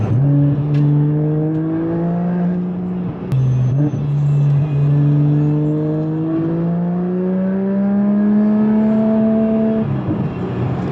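A Toyota Chaser JZX100 engine pulls along winding back roads with elevation changes, droning loudly and steadily as the pitch climbs through each gear, drops at a shift, then rises again.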